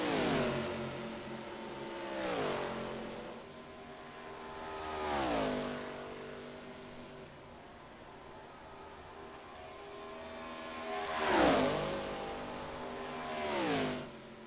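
ARCA stock cars race at Michigan, engines roaring past in loud Doppler sweeps, one car after another at intervals, with a steady high engine drone between passes.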